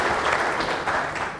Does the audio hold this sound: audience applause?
yes